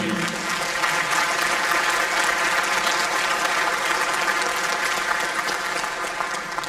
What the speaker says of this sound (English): Terry Nace and Brian Dunning deserve a special uh, thanks and round of applause to the whole team for all they do